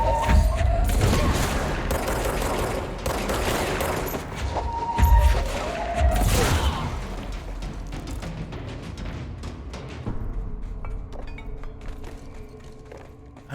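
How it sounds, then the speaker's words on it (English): Gunshots from the video game Control ring out in a loud burst of sharp cracks and booming thuds, followed by fading mechanical clanks and creaks with no talk over them. "I heard a gunshot"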